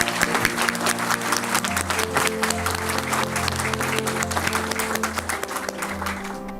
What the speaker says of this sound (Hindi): इन सब के लिए जोरदार तालियां, और तालियों में जोर होना चाहिए कि उनको याद रहे कि तालियां उनके लिए बजी।